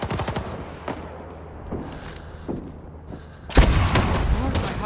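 Gunfire in the Vietnam War shooter Rising Storm 2: Vietnam: scattered sharp shots crack at moderate distance, then a loud close burst of fire erupts near the end, with a player's voice heard briefly.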